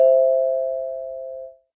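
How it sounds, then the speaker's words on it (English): A restaurant doorbell gives a single clear chime that rings out and slowly fades over about a second and a half in a quiet room. "The doorbell rings."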